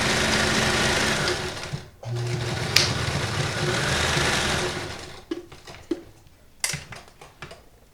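A vintage Kenmore 158.19311 sewing machine runs a strong reinforcing stitch, its motor whirring steadily and loud for about five seconds with one brief pause, then giving way to scattered clicks and short bursts as it stops.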